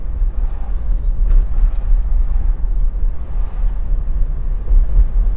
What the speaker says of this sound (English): You can hear a little bit of dash flutter, which is hyper common on the GM cars of this era